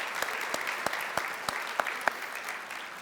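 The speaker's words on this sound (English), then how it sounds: "Clay and Brad particularly absolutely need a round of applause from all of us" An audience at a hall of fame awards night gives a steady round of applause, many hands clapping together at moderate distance with a few sharper claps standing out.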